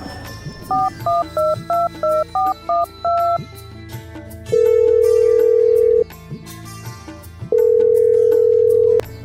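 A phone number is dialed on a keypad with a quick run of about nine short beeps, then two long, loud ringback tones sound with a pause between them while the call rings through.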